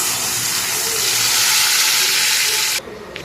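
Dal is poured into a hot tempering of popped mustard seeds and curry leaves, setting off a loud, close, continuous sizzle that cuts off abruptly near the end.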